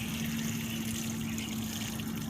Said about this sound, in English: You just want to let this pour out.